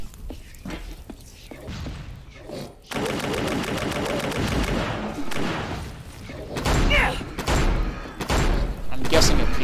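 Revolver fire in Hellslinger, a sequence of loud, sharp shots in irregular bursts over a dense din of game action, with someone talking in places.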